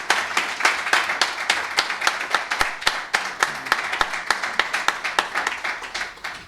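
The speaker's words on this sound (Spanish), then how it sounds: "este aplauso por tu valentía y por trasladarnos todo esto" An audience at a university conference marking the first anniversary of the Russian invasion of Ukraine claps in a steady, even rhythm of sharp, close hand claps, with no voices over them.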